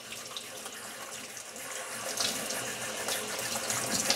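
Broccoli florets being rinsed under a running kitchen tap, a steady close rush of water into a sink with splashy variation as the head is turned in the stream, growing slightly louder toward the end.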